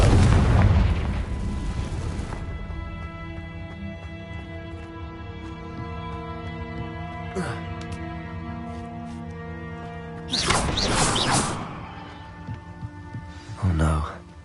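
Confringo blasting spells go off in Hogwarts Legacy, two sharp bursts late on, over sustained tonal game music with a few smaller impacts scattered earlier.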